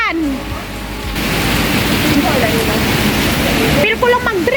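Heavy rain pours steadily over Orchard Road in Singapore, a dense close hiss filling the whole clip, briefly quieter at the start, with people talking over it near the end.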